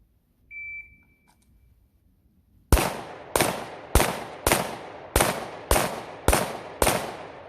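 A Glock pistol fitted with a compensator, firing snappy ammo, lets off eight sharp, loud shots in an even, fairly quick rhythm after a brief electronic beep and a short silence.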